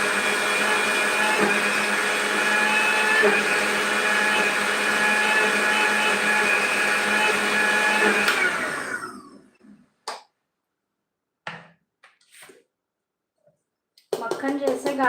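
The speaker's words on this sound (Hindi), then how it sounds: "मक्खन जैसे गाढ़ा बन जाता है, मिक्सर से आने वाली आवाज़ भी चेंज हो जाती है।" A kitchen mixer churns cream into butter for homemade ghee, loud steady whirring that cuts out partway through, followed by a few short clattering bursts and quiet gaps before the motor starts again.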